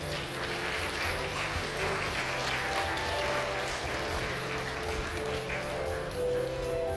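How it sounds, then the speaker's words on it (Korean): Audience clapping at a KLPGA golf awards ceremony, a steady, dense patter of applause that holds evenly through the whole stretch, with a faint background hum and no speech. "여러분 큰 박수 부탁드리겠습니다."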